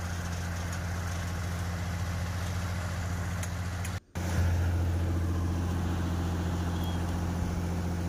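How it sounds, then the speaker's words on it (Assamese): A large yellow-bucket excavator, a Poclain or JCB, runs steadily at a bridge construction site over the Burhidihing river, its low engine drone continuous and close apart from one brief dropout partway through. "এইবোৰ একোখন বৃহৎ আকাৰৰ কি গাড়ী কয় নাজানো, ফকলেন কয় নে জেচিবি কয়"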